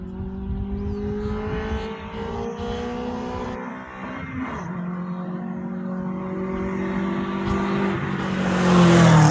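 A race car climbs the Coronet Peak hillclimb course, its engine revving up through rising and falling gear pitches, growing louder as it nears, with a brief tyre squeal, heard from nearby without talk.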